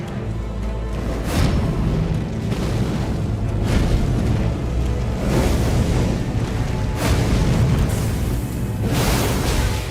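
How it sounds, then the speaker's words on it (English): Heavy, rumbling explosions and booming bursts from the Messmer boss fight in Elden Ring roll on continuously, loud and dense, with several sharper blasts surging through a constant roar. "I should dodge into him at the explosion, so then I can get a little closer and do a little more damage."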